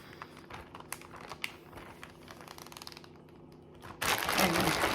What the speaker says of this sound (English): And get all that beef coated with the cornstarch.